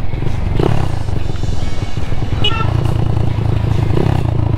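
Daytona motorcycle engine running nearby, a steady low, rough rumble that holds its loudness throughout, with faint clatter on top.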